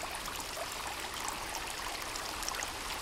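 A waterfall in the video game Sons of the Forest gives a steady, even rush of falling water, a soft continuous hiss that stays level throughout with no voices or other sounds.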